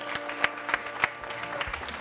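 Scattered applause for a DJ in a studio show: a handful of distinct claps standing out over a light background hum, fairly close and thin rather than a full crowd.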